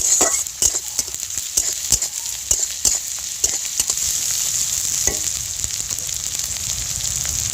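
Garlic paste and onions fry in a pan with a loud, steady sizzle, punctuated by repeated sharp scraping taps of a spatula stirring them, close and continuous.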